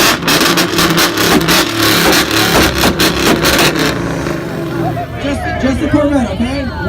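A Ford Mustang's exhaust revs at an exhaust sound competition, blasting loud rapid throttle pulses that give way to a lower rumble, with a crowd murmuring and voices throughout.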